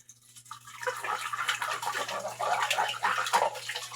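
Tap water runs steadily while dishes are washed by hand in a basin, a close splashing, trickling wash that swells and varies in intensity, with no talk over it.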